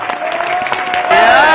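An audience at a company celebration in Hyderabad claps, the applause swelling louder and denser toward the end as a voice briefly carries over it.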